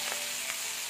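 Onions sizzling in hot oil in a pan, a steady close hiss with faint crackles, brief and alone.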